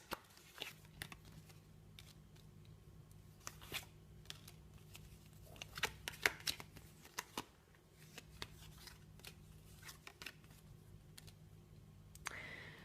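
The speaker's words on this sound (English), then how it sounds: "So I will lay out 5 more cards" Tarot cards handled and laid out in a spread, a run of soft riffling, shuffling and crisp card snaps and slaps, close and fairly quiet, with no talking over them.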